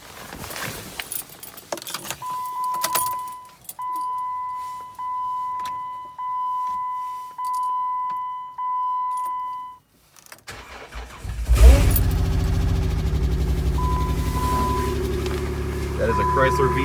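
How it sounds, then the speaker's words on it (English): A 2010 Jeep Wrangler with a Chrysler V6 starts cold at about -6 degrees. Key jingles come first, then warning chimes sound in a steady pulsing series. The starter cranks briefly and the engine catches and settles into a loud, steady idle close by. "We're gonna do a cold start on the Jeep Wrangler."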